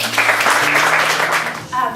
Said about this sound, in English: we need to give a round of applause to the guys who put this all together